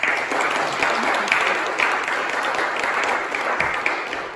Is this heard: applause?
yes